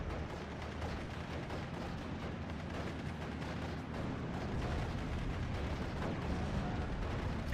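Dense, continuous battlefield din of 17-pounder anti-tank guns firing in the World War II strategy game Steel Division: Normandy 44, repeated gun reports and explosions layered over each other with no clear gaps.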